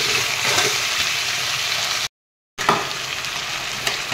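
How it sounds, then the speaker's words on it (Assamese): Ginger garlic paste sizzles and fries steadily in a pan while being stirred, a continuous loud crackling hiss with one short break partway through. "ইয়া 2 চামুচ আদা নহৰু পেষ্ট দি দিলোঁ একেলগে এইখিনি লৰাই ল'লোঁ অলপ কৰি"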